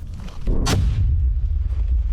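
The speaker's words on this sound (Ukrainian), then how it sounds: "стріляє з автомата" A single sharp assault-rifle gunshot cracks out close by in real combat, followed by a steady low rumble of background noise.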